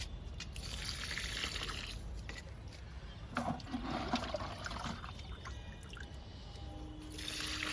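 Liquid fertilizer poured onto a large lemon plant after rain, a steady trickling, splashing stream running for several seconds, close and moderately loud.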